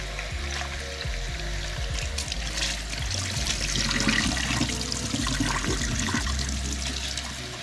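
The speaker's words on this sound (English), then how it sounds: "Use some cold water, and you know, first we'll wash the rice." Rice is rinsed in cold water, a steady swishing and trickling wash that runs without pause from start to finish, with no talk.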